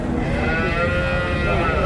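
Cattle low at a livestock market, a drawn-out moo carrying over continuous crowd babble and background noise for about two seconds.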